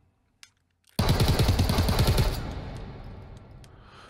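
Rapid burst of automatic gunfire from a video game breaks a near silence, about two seconds of fast, loud shots that then trail off into a decaying echo.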